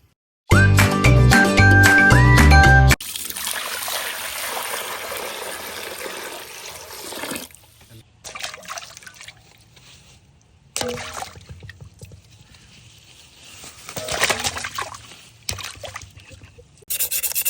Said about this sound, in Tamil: மீன் கழுவுறேன்